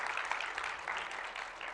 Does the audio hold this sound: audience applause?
yes